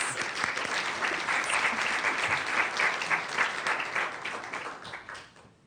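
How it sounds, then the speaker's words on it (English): An audience at a school board meeting applauds steadily for several seconds, a dense even wash of clapping that fades out toward the end. "Let's welcome Karen with a round of applause."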